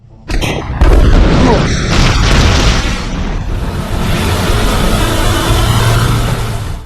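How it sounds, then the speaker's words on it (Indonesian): A flammable tank explodes inside a building with a loud, close, deep boom, followed by a sustained roaring rumble and crackle that slowly fades. "John melempar tangki yang mudah meledak ke dalam gedung itu dan"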